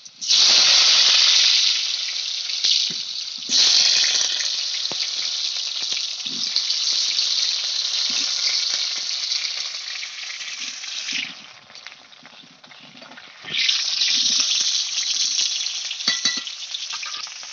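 Potato and papaya pieces fry in a little oil in a hot kadai, giving a loud, steady sizzle with scraping stirs. The hiss eases briefly near the end before it surges back.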